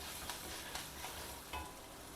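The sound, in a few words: sautéing chopped green chilli with other ingredients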